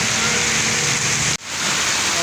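Heavy rain roars steadily, a loud continuous hiss broken by one very brief dropout partway through.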